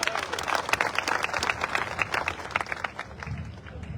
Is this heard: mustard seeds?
no